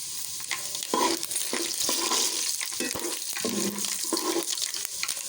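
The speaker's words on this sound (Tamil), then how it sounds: "இப்போ சட்டி வச்சு எண்ணெய் ஊற்றிட்டு கொஞ்சோண்டு வெந்தயம் நல்லா பொரிச்சு வைப்போம்" Fenugreek seeds crackling in hot oil in a pan while tempering for a fish curry, a continuous close sizzle broken by repeated stirring knocks and scrapes.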